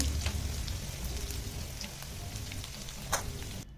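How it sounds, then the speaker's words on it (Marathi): Dried red chillies, cut in two, sizzle steadily in hot oil on a low flame while making tomato chutney, a continuous crackling fry with a sharper pop near the end. "आता यामध्ये मी घातली सुकी लाल मिरच्या दोन कट करून"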